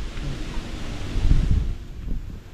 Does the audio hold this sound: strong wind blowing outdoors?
yes